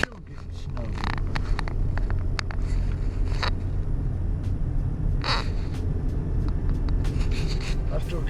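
A car drives south into Wisconsin on a snowy road during snowfall, giving a steady low engine and road rumble throughout, with a few faint crow caws and some talk over it.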